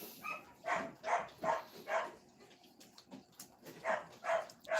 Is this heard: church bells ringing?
no